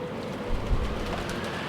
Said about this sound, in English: the rain was pouring down spectacularly